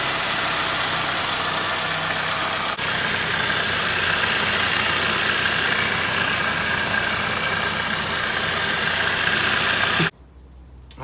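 A 2004 Toyota Camry engine idling with a newly replaced belt tensioner, a loud, steady close-up rumble with a faint tick running evenly for about ten seconds before cutting off abruptly to near quiet, no voices.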